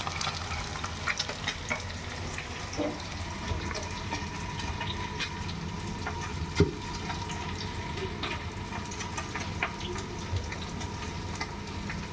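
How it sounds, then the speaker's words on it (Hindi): Steady crackling sizzle of paneer frying in a pan, continuous and close, with occasional small clinks and stirring sounds. "हमने इसको थोड़ा सा फ्राई किया है"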